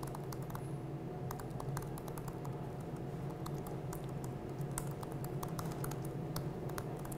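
Code being typed on a computer keyboard, a quick irregular run of light key clicks over a low steady hum, close and fairly quiet, with no talk.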